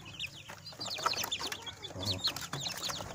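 Several Joper crossbreed chickens cluck and cheep close by, a busy overlapping chatter with no talking.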